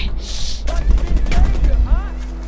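Rapid bursts of gunfire in the video game Far Cry 4, close and loud, firing in quick volleys across most of the moment, with a brief voice cutting in over the shots and a steady low hum underneath.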